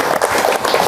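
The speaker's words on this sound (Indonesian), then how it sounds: "Tepuk tangan buat beliau." Short burst of audience applause at an Indonesian government gathering on waste sorting and recycling, a busy, even patter of many hands clapping close by.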